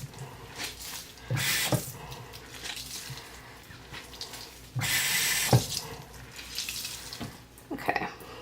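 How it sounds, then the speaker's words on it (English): A washcloth rinsed under a running tap during a silicone doll's bath, heard as intermittent bursts of splashing, gushing water with squishing and drips in between, close and fairly loud. "And then I rinse it a little bit."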